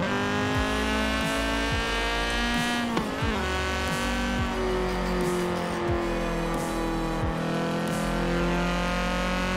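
Car engine held at low revs in Forza Horizon 4, a steady close-up droning hum with rich layered tones and small gear-like pulses, loud and continuous throughout with no talking.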